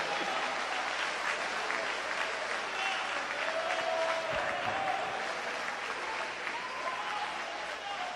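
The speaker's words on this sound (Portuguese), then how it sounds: "Quem entendeu a palavra, aplauda Jesus Cristo, por favor." A church congregation claps together after a sermon, a steady wash of mid-level applause lasting several seconds with faint voices under it.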